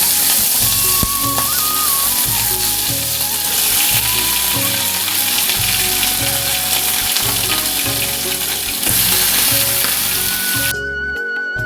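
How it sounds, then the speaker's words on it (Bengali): Crab frying with salt and turmeric in hot oil in a kadai, a loud, constant sizzle with a rhythmic tonal hum beneath it that cuts off abruptly at the very end. "এরপরে কাঁকড়াটা একটু লাল লাল করে ভেজে নেব নুন আর হলুদ দিয়ে"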